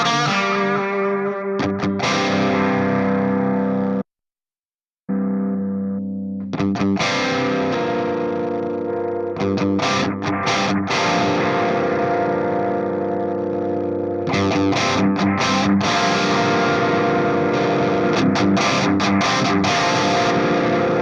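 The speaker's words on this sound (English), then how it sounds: "let's switch over to the crunch effects. Let's add in this graphite copy delay." A Fractal FM3 modeler plays a crunch-channel electric guitar through a graphite copy delay, sustained distorted chords ringing with echoing repeats, cut by a one-second silence early on, then continuing loud and dense without talk.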